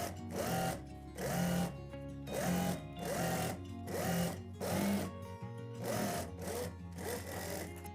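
A sewing machine stitches a trouser leg in repeated bursts of rapid mechanical whirring, about a dozen runs with short pauses between, close and steady, with no talking.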